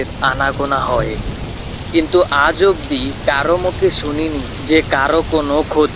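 Steady rain pattering down through a night scene, a constant wash of drops running under a narrator's voice, which talks over it the whole time.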